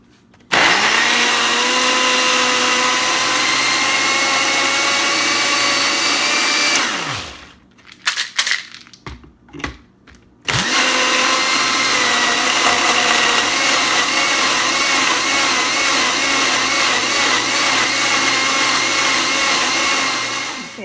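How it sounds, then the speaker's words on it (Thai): An electric blender blending fresh vegetables for breakfast: a loud steady whirring motor runs for about seven seconds, stops briefly with a few clunks, then whirs again for another ten seconds. "เดี๋ยวขอเวลาปั่นก่อนนี่เครื่องปั่น ปั่นใส่เครื่องนี้"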